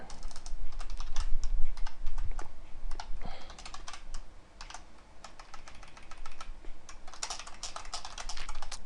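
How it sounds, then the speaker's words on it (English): Fast, steady clicking of a loud gaming keyboard being typed on, close up and continuous with short pauses, no voices. "I'm sure you can hear me typing. My gaming keyboard's a bit loud."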